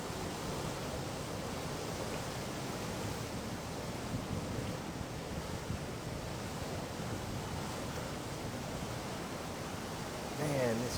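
Hurricane Helene storm surge pounds Fort Myers Beach, Florida, a dense continuous roar of churning water and wind, loud and unbroken, with a brief sharper rise near the end.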